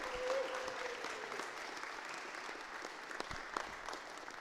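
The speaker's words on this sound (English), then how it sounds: "Big round of applause." Audience applause fills a hall at the UK Tiny Whoop drone racing championship finals day, a steady dense wash of many hands clapping that holds for several seconds with a few sharper claps standing out.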